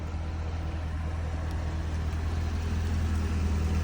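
Chevrolet Corvette C6 with the Targa top off, its engine idling in a low, steady burble that stays close and even throughout.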